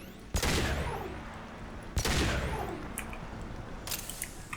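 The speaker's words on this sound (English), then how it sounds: "I have a heavy pistol. Let's open her." Heavy pistol shots fired at a two-way mirror in Mass Effect 2, two loud cracking blasts about one and a half seconds apart, each trailing into a long reverberant decay, with faint clinks afterward.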